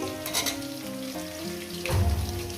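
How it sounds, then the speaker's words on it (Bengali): Potatoes and onions fry in a pan, a steady close sizzle with bursts of louder crackling near the end as more onions hit the hot oil; no one speaks. "আলুটাকে আমি দু মিনিট ভেজে নিয়েছি এরপর দিয়ে দেবো এই পেঁয়াজগুলো"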